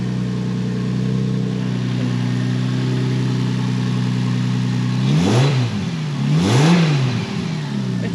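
A Toyota JZX100 fitted with a new turbo kit idles with a steady mid-pitched drone, then revs sharply twice, each blip rising and falling quickly over the continuous engine hum, close and loud.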